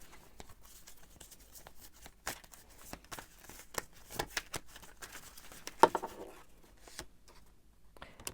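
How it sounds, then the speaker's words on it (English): Tarot cards being shuffled by hand, a run of soft papery riffles, flicks and taps, quiet and close, with a slightly louder slap near the end. "Too many cards. I'm going to shuffle more."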